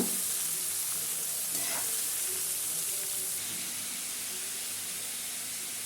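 Shredded cabbage frying and being stirred in a pan, a steady close sizzle with occasional scraping stir sounds, no talking.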